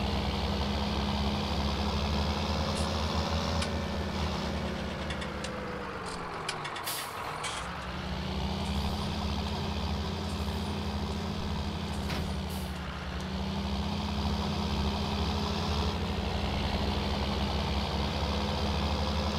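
A Volvo truck idling in Farming Simulator 19, a steady low diesel rumble held throughout with a brief hiss like an air-brake release partway through, close and clear with no talking.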